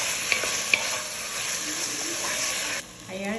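Chicken pieces and onion are stirred in hot frying oil, giving a steady sizzle with utensil scrapes and two sharp clinks early on. The sizzle drops near the end.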